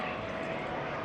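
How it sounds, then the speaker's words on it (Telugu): A helicopter passes overhead above a waterfront area with small yachts in America, heard as a faint, steady, distant engine drone with no talking. "హెలికాప్టర్ పోతుంది అక్కడ చూడండి"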